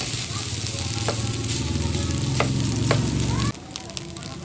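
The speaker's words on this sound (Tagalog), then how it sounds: "Haluin ko lang ng mabuti." Cooked rice fries in a hot pan while being stirred and broken up, giving a dense, continuous close sizzle with occasional scrapes until it drops off abruptly near the end. No speech.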